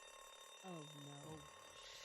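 An alarm sounds in The Walking Dead video game, a short burst of descending electronic tones rising above a quiet background and fading after about a second.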